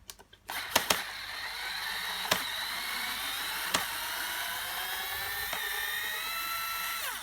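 Phillips head screws come out of a panel on an Emmaljunga Sports pram chassis, with a steady whirring driver whine running throughout and a few sharp clicks and taps near the start.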